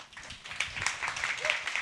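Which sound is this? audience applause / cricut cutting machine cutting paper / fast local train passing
audience applause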